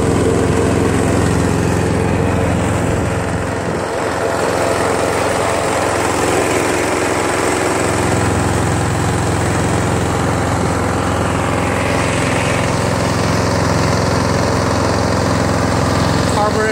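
A Toro Wheel Horse 1238XL lawn tractor with a Briggs flathead engine runs steadily and loudly close by, a continuous even drone without surging, with faint talking partly under it.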